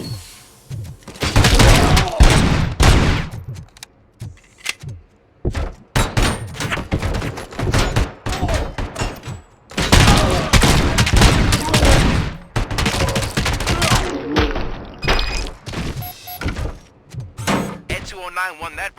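The ED-209 robot trades heavy gunfire in RoboCop Rogue City, with loud sustained bursts of automatic fire and booms broken by short pauses, plus clanks and game voices in between.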